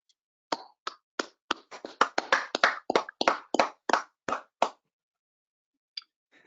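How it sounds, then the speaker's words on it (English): Sparse, polite golf clap at a commission business meeting: about a dozen separate, fairly close hand claps in a slow, uneven run, then a lone clap after a pause, with near silence between them. "That sounds like John, the polite golf clap."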